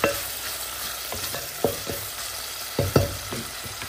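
Garlic and onions sautéing in a pan for beef caldereta, with a steady low sizzle broken by scattered spatula clinks and scrapes, louder pair near the end, no talking.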